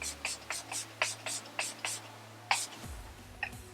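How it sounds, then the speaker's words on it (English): Milani setting spray is spritzed onto a face in quick, close, crisp pumps, about a dozen short hissy bursts in an uneven rhythm, fairly quiet. "Then I'm going to go back in with my Milani spray"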